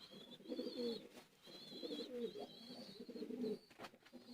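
A Teddy pigeon coos in repeated soft throaty phrases, close and fairly quiet, with a faint higher chirping in the background.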